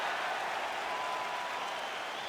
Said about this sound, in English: Crowd loves it when the doctor lets the fight continue.